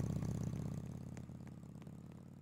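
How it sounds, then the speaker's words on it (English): A motorcycle engine in a Roblox game, a low rumbling idle with a steady pulsing rhythm, fairly quiet and fading slightly over the clip. "Here's a motorcycle."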